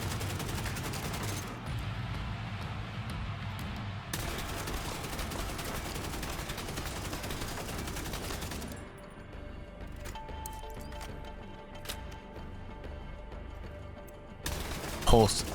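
Weapon fire in the video game The Division 2, rapid bursts of automatic gunfire in several stretches with brief pauses and impacts, mixed with a quieter background.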